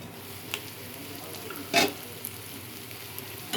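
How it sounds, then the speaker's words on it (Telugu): Chicken fry cooking in a pan gives a faint, steady frying sizzle, with a brief louder burst of crackle or stirring near the middle. No one speaks. "చక్కగా వేగిపోయింది ఫ్రెండ్స్."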